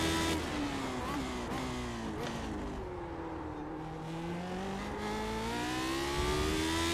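Race car engine on a hot lap in a racing video game set at Daytona or Spa-Francorchamps, loud and continuous, with rising and falling harmonic whine as the engine revs up, shifts and pulls through corners, alone with no voices.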